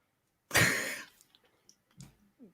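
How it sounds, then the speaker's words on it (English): One person coughs or clears their throat once, a short harsh burst close to the microphone, followed by faint clicks and a couple of small throaty sounds in an otherwise quiet room. "I was coughing and I didn't want to"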